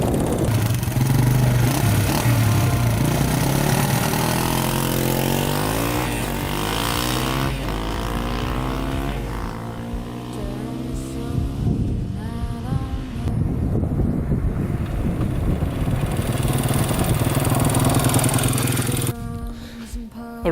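A Honda CRF 150 dirt bike engine runs continuously, loud and close, with a buzzy note that rises and falls as it revs, over heavy wind noise on the microphone, then cuts off at the very end.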